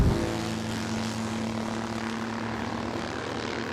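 A loud supercharged 1929 BMW R57 Compressor motorcycle engine drones steadily and close at Goodwood, with a constant buzzing hum and no clear rev changes.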